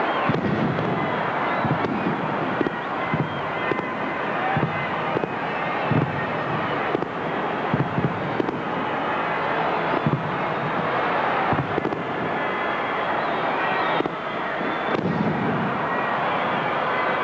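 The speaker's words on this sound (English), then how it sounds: "And now the fireworks presented by Foster's in the traditional black and red colours of" Fireworks in black and red open the 1985 VFL Grand Final between Hawthorn and Essendon at VFL Park. Repeated bangs and crackles ring out over a steady, roaring stadium crowd for the whole stretch.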